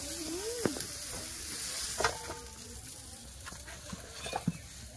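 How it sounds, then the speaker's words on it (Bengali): Cauliflower fried with salt and turmeric in a wok makes a faint, steady sizzle, with occasional clinks and scrapes of a spatula stirring it. "লবণ হলুদ, কপিটাকে ভালো করে ভেজে নেবো।"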